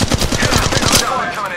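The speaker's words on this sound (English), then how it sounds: "I'm taking fire." Rapid automatic gunfire from the Spitfire light machine gun in the mobile shooter Apex Legends Mobile, a dense run of close, loud shots that thins out near the end under faint game ambience.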